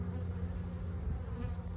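Steady, close buzzing of honeybees at a hive during an autumn inspection, a continuous droning hum with no break across the short stretch.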